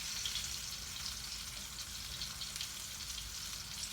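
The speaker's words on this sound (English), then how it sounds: "I'm going to let them cook a little more. Turn the fire up some. And let them continue to fry." Green tomatoes frying in a hot pan give off a steady, dense sizzle and crackle that stays even and close throughout, with no talking over it.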